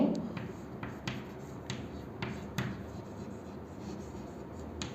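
Marker or chalk strokes on a board during a classroom lecture, a series of short faint taps and scratches at irregular intervals in a quiet room.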